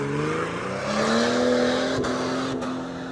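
A turbocharged car engine revs and holds a high, slowly rising whine on a night drive, steady and close with no talk over it.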